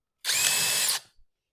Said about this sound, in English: drilling some pilot holes